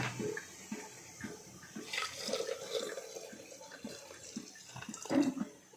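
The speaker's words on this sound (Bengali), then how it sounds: "এখানে আমি পরিমাণ মতো জল দিয়ে দিয়েছি" Water is poured into a pot of boiled moong dal, giving a faint close splashing and gurgling pour with a few drips, heard alone without talk.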